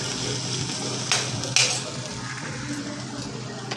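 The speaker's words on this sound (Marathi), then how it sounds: "बारीक गॅसवर तो पुन्हा छान परतून घ्यायचा" Masala for quick Maggi noodles, with coriander added, sizzles steadily in a pan over a low flame, a constant close frying hiss with a couple of soft stirring scrapes and no voice.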